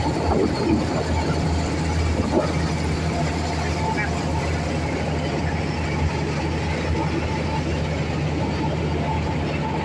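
A wheat threshing machine running steadily while unloading grain into a tractor, a loud continuous mechanical drone and rattle that fills the whole stretch without a break.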